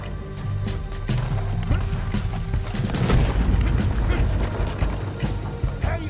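Heavy booms of cannon fire rumble through a noisy Red Dead Redemption 2 battle, several deep blasts and crashes piling up with a loud swell in the middle.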